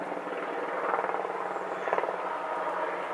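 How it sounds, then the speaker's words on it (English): Rotor thumping and engine drone of a large military helicopter circling overhead, steady and moderately loud, swelling slightly as it passes. "oh, helicopter circling. Okay, he's searching for something. Oh wow, it's a big one."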